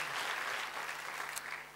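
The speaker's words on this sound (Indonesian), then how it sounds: "Kasih tepuk tangan bagi Tuhan Yesus, haleluya" A church congregation claps together during a sermon, a soft, steady wash of applause heard at a distance over a low electrical hum.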